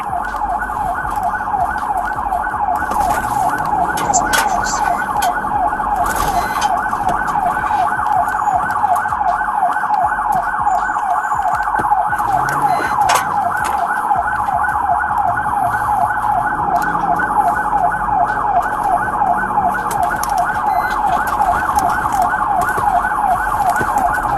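A police car siren wails continuously in a fast, repeating yelp during a high-speed chase, loud and steady throughout, with traffic and road noise underneath.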